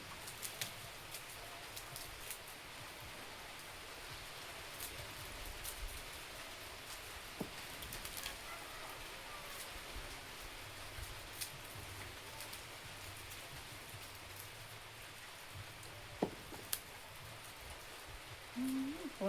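Steady rain falls over a field where shallots are being cut and prepared for planting, a dense, continuous hiss with scattered faint drops and rustles, no voices.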